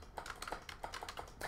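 Fast clicking on a computer keyboard: a quick, irregular run of sharp, close key taps, fairly faint, with no voices.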